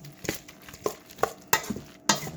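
A spoon stirs potato pancake batter in a bowl before frying, giving about five sharp, evenly spaced scraping knocks close by, with no talk.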